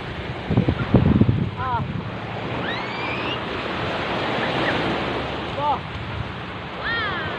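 Ocean waves wash onto the beach at a resort in Zambales, a steady roar of surf and wind noise, with a brief rumble early and faint bird-like chirps over it.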